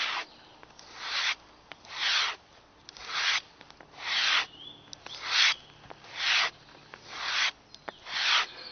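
A bushcraft knife blade drawn with light pressure across a sharpening surface, about eight even rhythmic strokes spaced roughly a second apart, each a soft rasping swish, close and clear with quiet pauses between.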